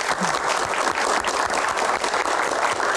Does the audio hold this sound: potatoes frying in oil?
no